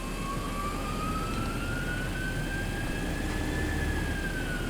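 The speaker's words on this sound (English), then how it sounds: "Let's just crank it up today so we can hear the engines." Boeing 737 jet engines in the X-Plane 11 flight simulator whine steadily at high throttle, a continuous roar with a rising and gently falling turbine tone running throughout.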